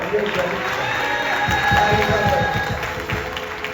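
A church congregation at a Sunday morning service claps and cheers for the pastors, bursts of applause rising from about a second and a half in over a steady murmur of crowd noise and voices.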